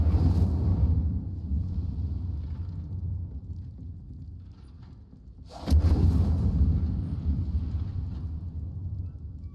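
Incendio fire spell cast in Hogwarts Legacy, a deep roaring rumble that swells into a sudden whooshing blast of flame midway, then a sustained heavy low burn, loud and alone.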